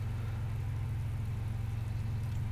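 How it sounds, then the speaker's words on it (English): A car engine in DayZ idling or running steadily at a distance, a low, even rumble that holds without change, with no voices over it. "there's another car"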